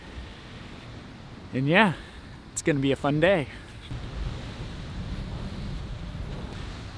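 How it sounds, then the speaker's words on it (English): Ocean surf on an Anna Maria Island beach in the morning, a steady soft wash of waves with light wind noise, under a few short spoken phrases. "The ocean is right there."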